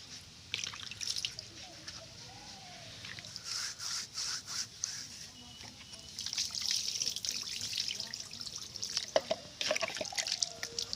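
Bamboo tubes stuffed with egg being rinsed gently with water, giving intermittent soft drips, trickles and rubbing scrapes at close range, with no speech.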